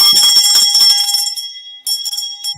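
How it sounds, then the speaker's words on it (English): A bell rings loudly and close, with a burst of rapid strikes that rings out and fades, then a few more strikes follow, celebrating a victorious test taker. "As for whom the bell tolls"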